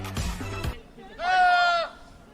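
A single drawn-out, wavering goat bleat, fairly loud and close, following a brief burst of speech.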